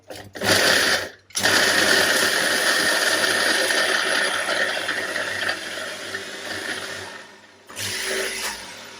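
Fruit being blended into a sorbet gives a loud, steady motor whir and churn that cuts out briefly near the start and again near the end.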